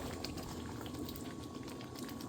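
Mung bean stew with pork ribs bubbling at a steady boil in a cooking pot, a continuous close simmering hiss with dense popping bubbles throughout.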